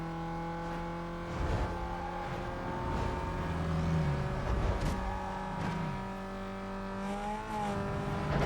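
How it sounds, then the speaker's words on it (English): Taxi cab driving in Need for Speed: Most Wanted 2005 on PS2, engine droning steadily with pitch shifts as it accelerates and changes gear, with brief bursts of road and collision noise and no talk. "now we are having the fun of driving the taxi cab."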